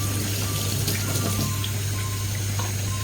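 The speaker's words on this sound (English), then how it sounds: "using the hot water, just rinse them off" Hot water runs steadily from a tap as dog toys are rinsed beneath it, a continuous close splashing hiss with a low hum underneath and no speech.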